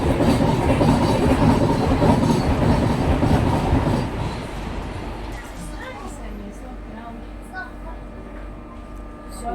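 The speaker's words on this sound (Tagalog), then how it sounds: "My first train is here everyone." A train pulls into a UK station, loud rumbling and clattering for about four seconds before easing to a quieter idle with faint squeals and station ambience.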